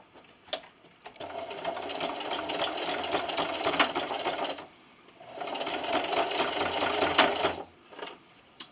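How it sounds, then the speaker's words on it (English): A sewing machine top stitches a quilted glasses sleeve in two long runs with a short stop between, a close, loud mechanical whir with rapid needle clatter. "I'm going to sew all the way down, turn, sew, and back stitch at the end."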